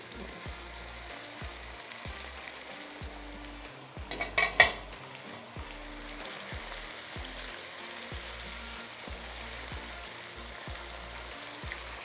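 Chicken frying in a pot for a degi-style shahi korma, a steady close sizzle running throughout with a short burst of stirring and pan clatter around the middle, no talk.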